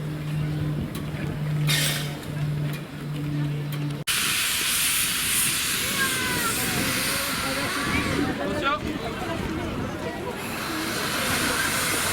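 A steam locomotive on the Chemin de Fer de la Baie de Somme heads off toward the depot, giving a strong continuous hiss of steam. Rumbling movement follows, with a low hum in the opening seconds.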